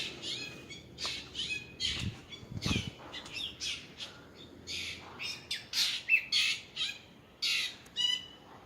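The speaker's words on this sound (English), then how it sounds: "I'm competing against this bird's lungs here." Birds squawk and sing at Wanxing Gong shrine in Jiufen, Taiwan. Loud, repeated bursts of calls and chirps come close together, with a few harsher squawks mixed in.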